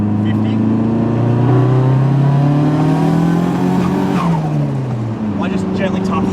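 Modified front-wheel-drive car accelerating hard, its engine note climbing steadily in pitch through a gear before a shift drop, loud and close from inside, with a brief tire chirp near the end.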